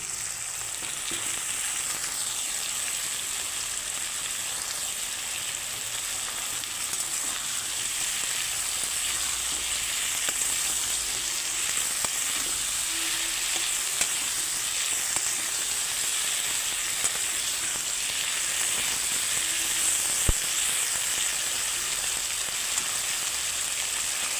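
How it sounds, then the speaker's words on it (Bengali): Taro and Malabar spinach stems fry in hot oil with shrimp and onion, a continuous close sizzling hiss with occasional faint stirring clicks; no talking. "চিংড়ি মাছ আর পেঁয়াজ ভাজা হয়ে গেছে এখন আমি কচু আর পুঁই শাকের ডাঁটাগুলো দিয়ে দিচ্ছি"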